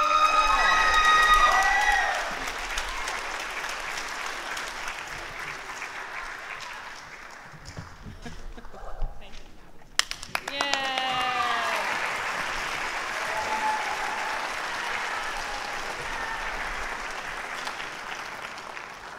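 Audience applause and cheering fill a school spring instrumental ensemble concert, loud at first, then easing and rising again for a second round, with a voice speaking over the crowd partway through.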